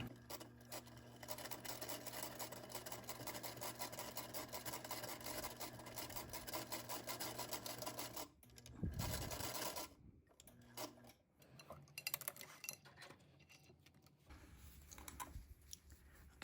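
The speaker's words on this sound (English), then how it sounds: "I'm going to just do a little stitching from here to here." A sewing machine stitches a teddy bear paw pad in place with a steady, quiet mechanical whirring and rapid needle clicking for about eight seconds, then stops, followed by a few faint shorter bursts and handling sounds.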